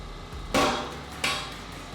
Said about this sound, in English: I used a punch and a hammer to beat it out